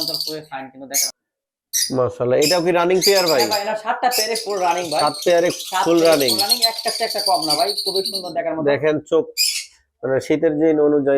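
Green-cheeked conures and lovebirds kept as pets squawk and chirp in a busy, overlapping chorus close by, with bursts of harsh calls and brief pauses between them.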